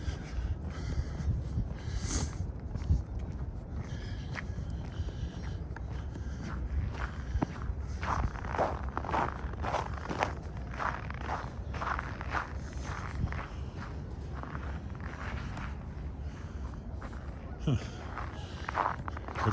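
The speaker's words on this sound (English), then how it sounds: "Could have sworn somebody was following me as I hear my own footsteps." Steady footsteps of someone walking around a lake in Regina before sunrise in December, a continuous crunching rhythm throughout, close and moderately loud with faint background noise.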